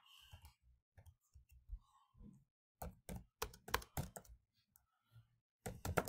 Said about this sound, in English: If I had a keypad, it would be even faster typing this in than on my calculator